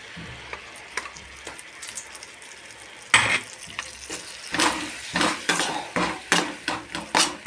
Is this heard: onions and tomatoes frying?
yes